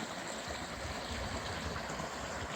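Shallow water runs over rock in a creek, a soft, steady babbling trickle heard alone at low level.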